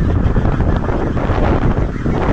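Strong wind gusts across the open hilltop of Pasir Ucing, where a kolecer wind propeller is being battered; a loud, steady broadband roar buffets the microphone with no pause.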